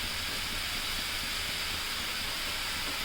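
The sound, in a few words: green chillies and curry leaves sizzling in hot pan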